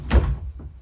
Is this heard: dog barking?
no